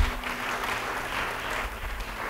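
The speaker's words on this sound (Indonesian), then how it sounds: "Beri tepuk tangan buat Tuhan." Applause from a church congregation during a sermon, a steady dense wash of clapping with a low hum beneath, sustained throughout without speech.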